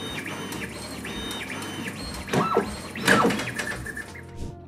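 A 3D printer running acceleration test G-code, its stepper motors whining and buzzing through rapid back-and-forth moves that rise in pitch with sudden direction changes and clunks, with no talking.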